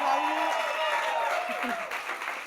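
A live podcast audience applauds and cheers as two guests are welcomed, a steady wash of clapping and crowd noise with voices talking and calling out over it.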